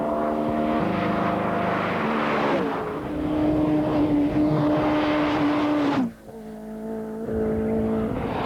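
A Ford Cosworth rally car held at full throttle in top gear on a 1992 Donegal International Rally stage, producing a loud, sustained engine drone that climbs in pitch, then drops sharply as the car passes and fades into the distance.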